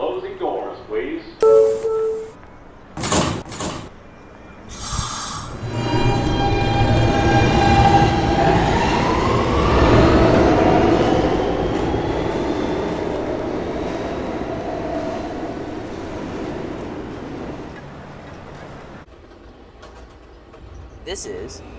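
A New York subway K train bound for 57th Street, an R160 car, rumbles steadily along the tracks with a rising whine, doors and brief announcements audible at the start and end.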